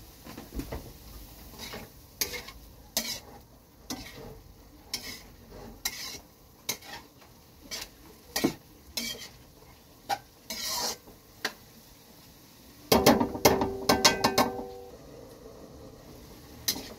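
Dried fish (tuyo) and fresh vegetables fry in a pan, with frequent sharp utensil scrapes over a low sizzle and a dense burst of metallic clattering near the end.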